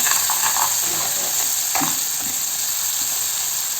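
Spiced masala sautéing in oil in a pan for a rustic village-style crab curry, a loud continuous sizzle with scraping stirs of a spoon and bursts of crackle, no talking.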